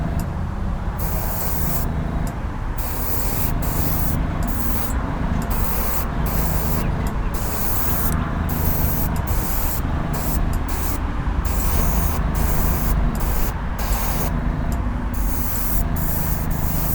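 Steady hiss of aerosol spray paint on a model Porsche car, continuous with short gaps between bursts, close and fairly loud with a low rumbling background.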